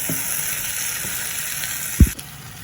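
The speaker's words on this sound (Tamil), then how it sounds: "ஒரு அஞ்சு நிமிஷம் இதை கிளறி விடுவோம்" Drumstick pieces frying in a pan for sambar, a steady close sizzle with a spoon scraping through them, one sharper clunk of the stirring near the end, no talk.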